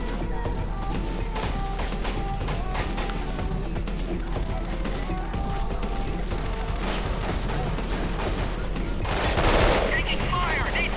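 Gunfire in the video game Delta Force Black Hawk Down crackles almost nonstop in dense automatic bursts, with a louder blast near the end, mixed under game voices calling out.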